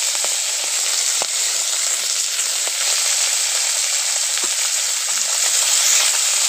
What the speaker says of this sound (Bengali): কড়ায় তেল দিয়ে মাছগুলোকে ভালো করে ভেজে নেব